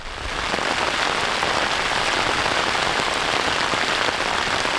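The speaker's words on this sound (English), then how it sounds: "the weather decided it's time to rain" Steady, dense patter of rain drumming on a thin fabric surface overhead, constant and close throughout with no voices.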